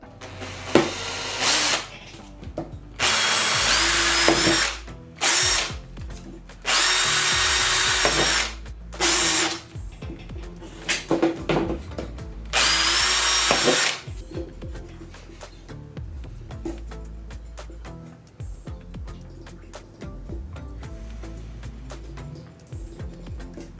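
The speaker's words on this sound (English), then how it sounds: "Let's go ahead and drill these out." A power drill whines loudly in several long bursts, each a few seconds, drilling out holes in a custom PC motherboard tray, separated by pauses with clicks and handling noises.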